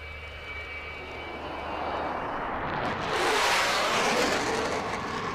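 A B-1 bomber makes a high-speed pass at about 0.9 Mach and 500 feet over an airshow, its jet roar building steadily into a loud, broad rushing blast that swells past its peak and stays strong through the end.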